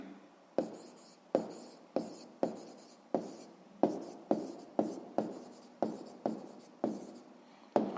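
Pen writing out a sixth-grade math solution on paper, with about fourteen short, crisp scratching strokes in an uneven rhythm, close and alone against a quiet background.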